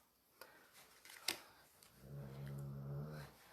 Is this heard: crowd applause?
no